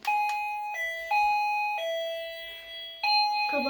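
An electronic doorbell installed on a bedroom door plays a sequence of clear sustained tones stepping up and down, loud and close with no talking.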